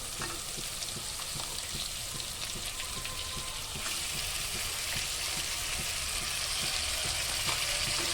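Ginger sizzling and frying in a pan with sautéed onions for a mutton curry, a steady crackling hiss that grows slightly louder partway through, with faint stirring scrapes and no talk.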